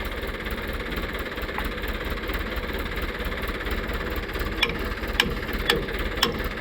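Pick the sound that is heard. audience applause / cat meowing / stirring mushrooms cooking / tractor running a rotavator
tractor running a rotavator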